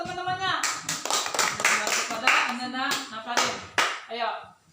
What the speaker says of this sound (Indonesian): Tepuk tangan terlebih dahulu teman-temannya. Kepada Ananda Napari.